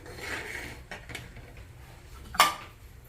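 A metal lid is set onto a cooking pan of onion-tomato masala with a single bright clink and short rattle near the end, preceded by faint scraping and quiet kitchen background.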